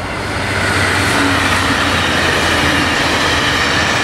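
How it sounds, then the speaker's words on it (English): A train rumbles past close by, a loud, steady roar of rolling wheels and rail noise with faint squealing tones, sustained throughout with no voices. "No, there's like a legit train coming though."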